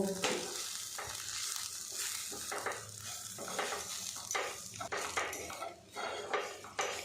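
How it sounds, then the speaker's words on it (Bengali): Gram flour stirred into bitter gourd in a frying pan makes a close, busy scraping of a utensil against metal over a steady sizzle, with occasional knocks and no talk. "বেসনটা দিয়ে উচ্চের সাথে বেশ ভালো করে মিশিয়ে নেব"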